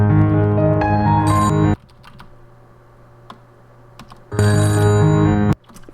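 A telephone ringtone plays loudly and close in two bursts, a melodic electronic ring that stops, leaves a quiet room with faint clicks, then rings again.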